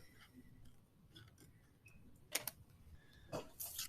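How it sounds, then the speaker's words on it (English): A few quiet snips and rustles of scissors cutting paper, spaced unevenly, close and soft. "So I get my scissors out and cut along said line."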